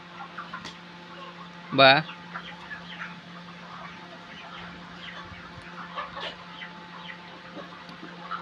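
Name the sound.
chickens in a poultry farm shed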